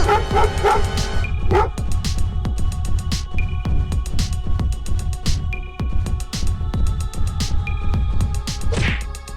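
Cartoon dog barking and yipping in quick repeated bursts, loud and close, with whimpering yelps among the barks and a brief voice near the start.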